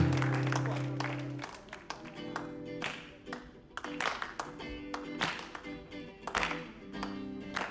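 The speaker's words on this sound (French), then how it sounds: "Est-ce qu'on peut applaudir la présence de notre Dieu?" A church congregation applauds during French-language worship. The clapping is scattered and uneven, mixed with taps and crowd noise, and sustained musical tones sit underneath at the start.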